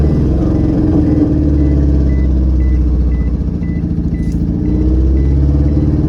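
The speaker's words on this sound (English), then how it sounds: "Wait for the truck to go by." A truck rumbles past at a stop sign, a heavy low engine drone close by that swells and eases, with a faint repeating beep in the background.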